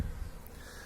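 Wild bees swarm around a hive in the large hollow of an old dragon tree, giving a soft, steady insect hum over a low rumble of wind. The buzz stays faint and continuous for a moment.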